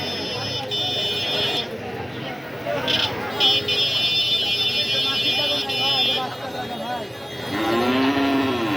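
Cattle low and moo at a busy weekly livestock market in Naogaon, Tarash, Sirajganj, with several drawn-out calls rising over a dense crowd of voices and a steady electronic buzz.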